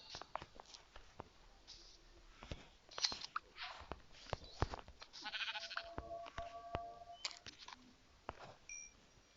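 Sheep bleat in a Minecraft-style village game, short bleats over scattered game clicks and effects, moderately clear.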